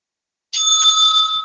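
A timekeeper's bell at a debate final rings once after a short silence, a bright, loud metallic tone that sustains and slowly fades, close and alone.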